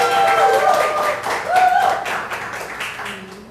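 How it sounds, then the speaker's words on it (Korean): Audience applause greets an author taking the stage at a Korean book launch concert, a burst of clapping that swells and then fades over a few seconds, with a voice heard over it. "큰 박수 부탁드리겠습니다."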